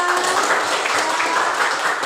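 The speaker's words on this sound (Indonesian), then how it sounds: "Mari kita tepuk tangan untuk kita semua." Pupils applaud in a classroom, producing a steady wash of clapping that holds at an even level for the whole moment, with faint voices beneath.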